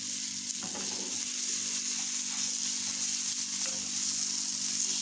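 Garlic fries in oil alongside caramelized onions for a chicken and onion tagine, giving a steady close sizzle and hiss throughout, with faint scraping as it is stirred.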